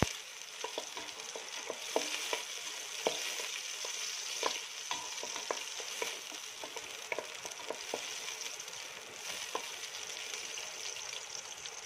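Onion frying in a little oil, a steady close sizzle with scattered clicks and scrapes of stirring throughout.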